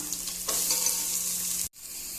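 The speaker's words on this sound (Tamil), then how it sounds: "எண்ணெய் நல்லா சூடானதுக்கப்புறம் நறுக்கி வச்சுருக்கிற ஆனியனை சேர்த்துக்கலாம்" Steady, loud sizzling of onions frying in hot oil, jumping up sharply as they hit the pan, then a brief drop before the sizzle resumes.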